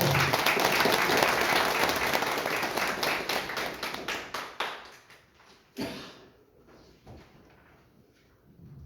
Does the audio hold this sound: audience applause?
yes